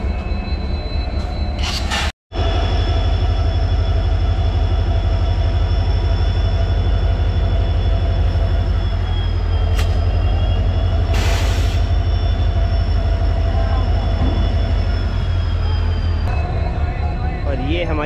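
A WDP4D diesel locomotive from Kalyan coupling onto the Chennai-Mumbai Superfast Express at a station halt, a loud steady diesel rumble with clanks and a brief squeal, close by.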